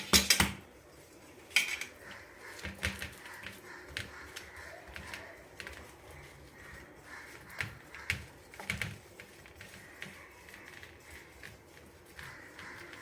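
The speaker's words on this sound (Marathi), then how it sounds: "गरम असतानाच हे थोडंसं तेल लावून, त्याला तेल लावून पसरून घेऊ" Hot sesame ladoo mixture pressed and spread over an oiled plate, a few sharp metal knocks at the start followed by soft repeated scrapes and taps, close and quiet, without speech.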